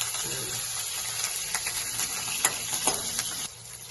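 Oil sizzles and crackles steadily as chopped green chilies fry in tempering oil, with a few brief stirring clinks and sharper pops scattered throughout.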